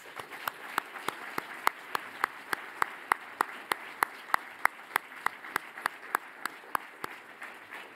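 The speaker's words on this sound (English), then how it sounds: "Please join me once again by applauding these outstanding students." An audience at an awards ceremony claps steadily for several seconds, a dense wash of hand claps in a large room with no voices over it.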